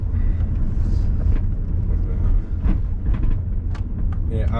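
Twin-turbo Subaru Forester driving, a steady loud engine and road rumble running throughout, close up in the cabin, with a few brief clicks and knocks over it.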